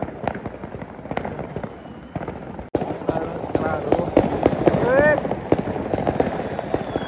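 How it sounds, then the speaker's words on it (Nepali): Firecrackers burst repeatedly during a Diwali celebration in Malaysia, a dense run of sharp pops and crackles, some loud and close, with people talking in the background. "यसरी पटाकाहरू पड्काइन्छ"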